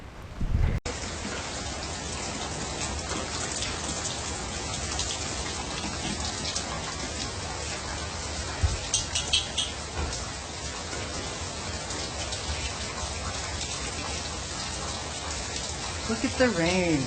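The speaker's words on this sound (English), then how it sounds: "Look at all this rain." Heavy atmospheric-river rain pours down steadily in a dense, constant hiss with scattered drops and spatters; a voice speaks briefly at the start and end.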